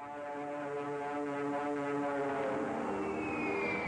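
Droning engines of warplanes flying overhead, a steady, loud harmonic hum that holds for about four seconds with a slight rise in pitch, evoking the 1941 Japanese attack on Pearl Harbor.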